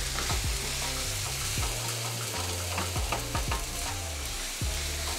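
Steady sizzle of ground turkey frying in a pan for lasagna, with repeated scraping strokes from stirring, close and continuous with no talk.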